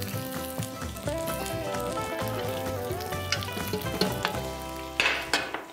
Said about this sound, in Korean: 중간에서 물을 잘 뺀 쌀을 넣고 어느 정도 토스트를 해주다가